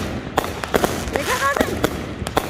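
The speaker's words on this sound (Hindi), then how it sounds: "ये देखिए इन्होंने और बम लगाना शुरू कर दिए। ऐसा लग रहा है जैसे चारों तरफ से बमबारी हो रही है।" Firecrackers pop in a rapid, irregular string at a Fourth of July celebration, sharp cracks from several directions, with a whistling rocket rising midway and voices in the background.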